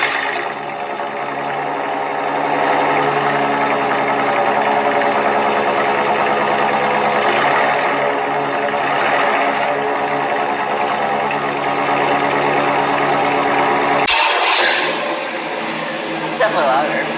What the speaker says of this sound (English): Let's go through all the exhaust setups that the 96 has had, from stock to now.